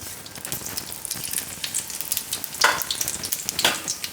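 Chopped onion and whole cumin seeds crackle in hot oil over a lowered gas flame, a soft continuous hiss broken by a couple of brighter spatters near the end.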